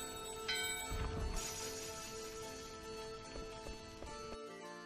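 A bell rings in the Final Fantasy IX video game, its clear, sustained tone set among layered game music and effects at a steady, moderate level.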